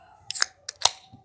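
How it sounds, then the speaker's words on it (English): A drink can being cracked open up close: a sharp metallic click followed by a quick hiss and a second snap, brief and isolated with no talk. "crack open this can"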